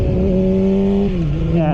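A motorcycle accelerates along a race track, its engine tone climbing and holding steady close by, loud and continuous with wind and road noise underneath.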